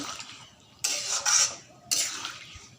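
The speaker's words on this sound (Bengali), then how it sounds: "একটু ভালো করে লাড়াচাড়া করে নিয়ে আরও 5 মিনিট লাইটও দিব" A utensil scraping and stirring small fish curry in a pan in a Bengali village kitchen, two short bursts of metallic scraping separated by a quiet pause.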